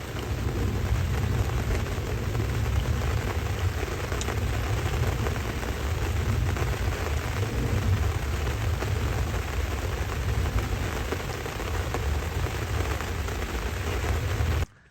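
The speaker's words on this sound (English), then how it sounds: "It's been raining steadily now for about 2, maybe 3 hours." Steady rain falling at a fishing lake, a continuous dense hiss with low rumbling underneath, even and unbroken throughout, with no voices.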